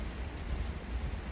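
Steady rain falling outside a house, heard from indoors as a continuous soft wash with a low rumbling undertone and no distinct drops.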